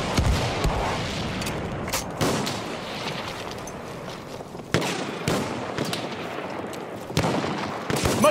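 Rapid gunfire bursts from a video game battle, loud and close, with repeated sharp cracks and booms in clusters over a dense continuous din of combat noise.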